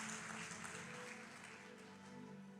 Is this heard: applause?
yes